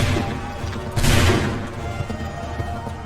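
A musket volley fired on command in the video game Assassin's Creed III cracks out as one loud, dense burst in the middle, over a steady rumbling battlefield background.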